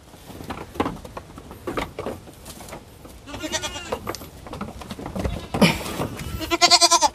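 Young goats up to three months old bleat repeatedly at close range during weighing, with shuffling and handling noises between the calls.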